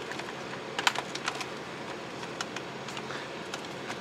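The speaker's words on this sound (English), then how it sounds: "let's just get the other side clicked into place" Plastic parts of a Bandai 1/350 scale Space Battleship Yamato model kit clicking into place: quiet, scattered small clicks and snaps over a soft background hiss, with no talking.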